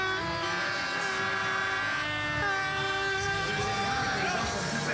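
Crowd at a Red Bull Crashed Ice event blowing whistles, a dense overlapping shrill chorus that stays continuous and fairly distant over a rumbling background.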